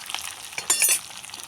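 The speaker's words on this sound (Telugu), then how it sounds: "అవి కాలింపు బాగా వేయాలండి" Spices tempering in hot oil for a buttermilk curry, a crackling sizzle with a brief louder burst of popping midway, close by and with no talk.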